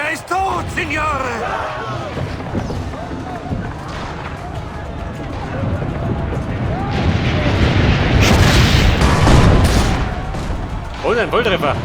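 Cannon fire and explosions in a siege battle in Assassin's Creed Brotherhood, a dense rumble of booms that builds toward the end, with people talking throughout.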